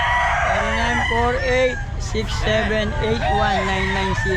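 Roosters and chickens at a pet market crow and cluck close by, several repeated bursts layered over one another, while a person speaks over the birds.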